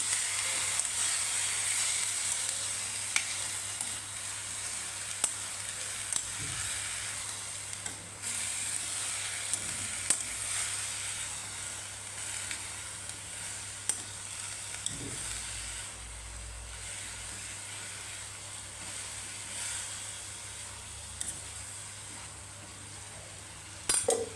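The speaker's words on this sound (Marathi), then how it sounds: "हे सर्व मिक्स करून घेणार आहे भाजी" Shredded cabbage frying in a pan as it is stirred for a simple sabzi, a steady soft sizzle and hiss with occasional faint clinks of the spoon, no talking.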